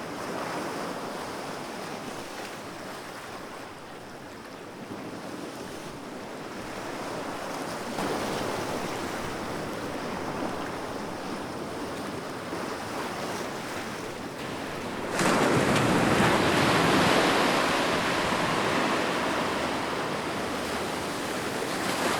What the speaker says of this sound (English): Powerful waves have carved the jagged rocky structures found here on Desert Island in northern Maine